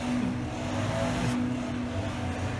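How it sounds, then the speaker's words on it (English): A weed eater or leaf blower in suburban yard landscaping work, a continuous droning small-engine whine held steady and fairly close throughout, with no talk. "Weed eater or a damn hedge trimmer, probably a damn weed eater or a blower."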